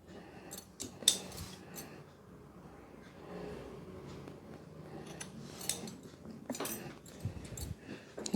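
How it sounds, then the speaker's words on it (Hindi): Scissors snip through knitting yarn for a baby cap with a few quiet, close clicks and rustles, some faint handling noise, and a voice speaking softly in the background. "इसके बाद हम ये धागा काट देंगे।"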